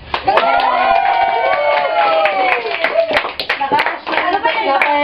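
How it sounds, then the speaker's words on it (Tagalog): People clapping at a birthday party, scattered hand claps mixed with excited children's and adults' voices, cheering and chatter, loud and close in a lively room. "Ba't di kayo pumalakpak?"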